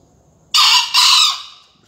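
A green junglefowl gives a single sharp, high crow in two quick bursts, the second longer and fading, loud and close against near silence.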